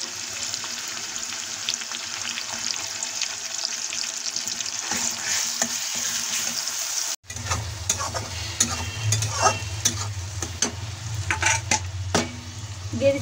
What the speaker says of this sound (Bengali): আদাটা একটু ভেজে নেব। আদাটা একটু ভেজে নিলে দারুণ একটা সুগন্ধ হয়